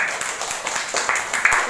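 Scattered clapping from a classroom group of students, a brief burst of uneven hand claps rising toward the end, fairly close and moderately loud.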